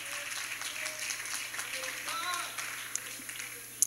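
A church congregation claps along during a sermon, a moderate, continuous patter of hands with voices and shouts rising over it and a few sharper claps near the end.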